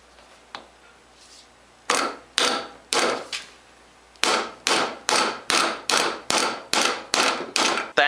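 A wooden handle is driven onto a tanged chisel with sharp, loud percussive strikes: a few spaced blows first, then a steady, evenly timed run of about ten hits close by.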